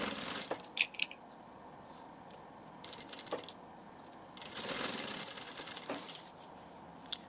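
A sewing machine runs in short bursts while stitching along the edge of synthetic fabric for a diaper bag, quiet rapid whirring separated by pauses with small clicks and handling noises.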